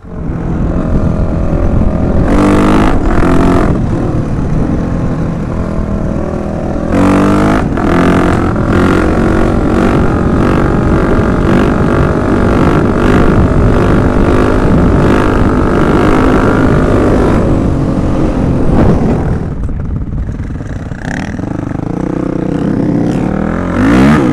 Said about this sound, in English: Out here riding some dual sport today.